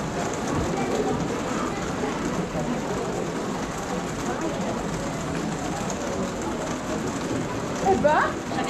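Steady, dense hiss of heavy rain fills the whole stretch, even and continuous, with a brief faint tone near the end.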